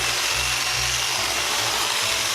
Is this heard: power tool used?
yes